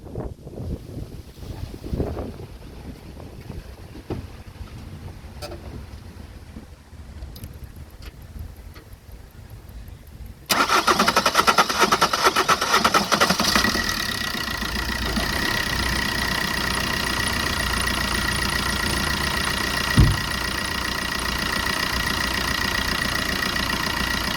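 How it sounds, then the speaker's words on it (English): A 2009 Opel Astra diesel engine cranks and catches about halfway through, then settles into a loud, steady idle with a rough, rumbling texture. "Now we'll try to start the engine."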